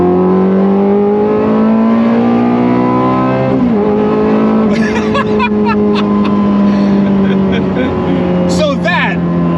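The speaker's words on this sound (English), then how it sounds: "So we're gonna go over the fast lane here, we're gonna drop it down 2 gears." A remapped Ferrari engine revs hard after a downshift, loud and close from inside the car, its pitch climbing and falling through sustained roaring surges with brief gear-change dips.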